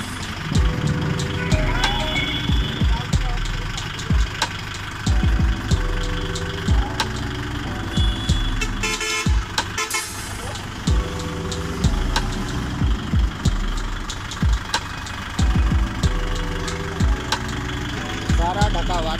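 A Kubota 4501 tractor engine idles with a steady low rumble, while someone talks over it throughout.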